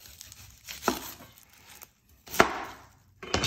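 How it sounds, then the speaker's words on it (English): A knife cuts the ends off an onion on a cutting board, giving a few sharp, close chops spaced about a second apart, with a soft crackle of papery skin between them. "You're gonna cut the ends off."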